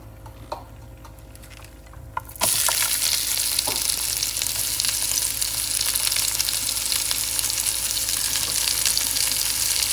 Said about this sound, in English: And that will go on browning up in there.